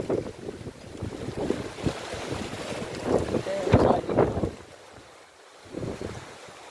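Gusty wind in Bohol, Philippines, during a typhoon buffets the microphone with low rumbling blasts, with muffled voices and what sounds like water and a boat in the background.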